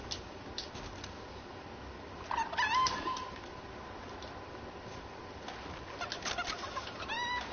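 A chicken in the Fortnite video game clucks in brief, fairly faint bursts, with flapping and scrabbling mixed in. The clucks come and go over a steady, hissy game background.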